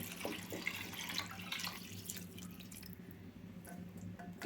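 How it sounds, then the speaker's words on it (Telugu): Water poured onto rice for a basmati biryani, a soft steady trickle and splash that fades toward the end, fairly quiet, with no voices. "ఐదు గ్లాసుల రైస్కి ఏడున్నర గ్లాసులు వాటర్ అయితే పోస్తున్నాను చూడండి"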